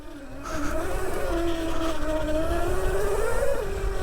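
An ETM RTR electric pit bike is ridden, its motor giving a steady, fairly loud whine that rises and falls in pitch with throttle, over a rumble of tire and wind noise, without speech.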